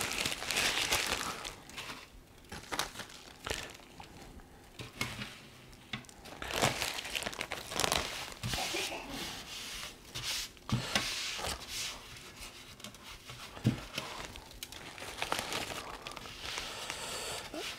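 A plastic bag crinkles and rustles up close as bacon cure mix is tipped in, in irregular bursts with short pauses between.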